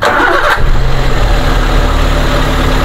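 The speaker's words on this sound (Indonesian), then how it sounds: "sekarang kita on-kan lagi, kita dengerin suara dari stasioner sampai RPM tingginya." A 2014 Daihatsu Gran Max blind van's engine cranks briefly and catches, settling into a steady, loud close-up idle that fills the rest of the short clip.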